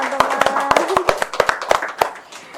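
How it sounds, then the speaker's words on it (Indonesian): A small group claps at a morning talk show in Jepara, with quick uneven hand claps that are loud and close, overlapping briefly with a voice. "tepuk tangan teman-teman"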